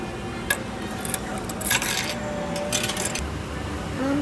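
100 yen coins clink and drop one after another into a restaurant ordering machine in Tokyo, close metallic jingles spread over a few seconds against faint room noise.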